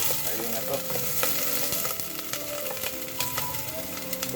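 Garlic sizzling and frying in a pan, a steady dense crackle with occasional stirring scrapes, close and continuous.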